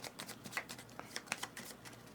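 A deck of cards is shuffled for a board game, giving a quiet run of soft riffling flutters and light slaps that pulse a few times per second, close and alone.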